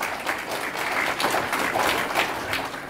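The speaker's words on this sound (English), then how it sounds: "I'd like to give her a round of applause for all of her great work" A crowd at a veterans' services event claps in a sustained, even round of applause, moderately loud and continuous throughout with no voices over it.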